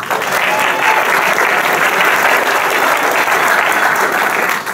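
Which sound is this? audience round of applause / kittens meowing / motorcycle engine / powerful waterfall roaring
audience round of applause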